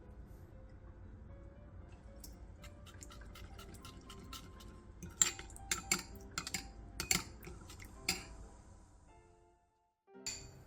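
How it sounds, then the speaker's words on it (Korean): Soju, soy sauce, minced garlic and syrup being stirred together in a bowl, with soft clinks and taps of a utensil against the bowl over a low wet background, then a short pause before a final clink. "볼에 소주 4스푼, 진간장 2스푼, 다진 마늘 1스푼, 물엿 3스푼을 넣고 골고루 섞어주세요."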